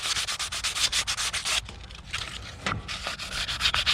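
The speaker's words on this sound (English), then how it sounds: "I'm going to sand the inside a little bit just to scuff it up." Sandpaper of 180 grit scuffing the inside of a molded plastic kayak bumper, heard as steady rapid back-and-forth rasping strokes close by, a brief pause partway through before the rubbing resumes, with no talk.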